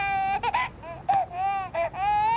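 A small child crying inside a car in a Hindi-dubbed South Indian film scene, with loud, close wailing broken into several sobbing bursts and brief catches of breath.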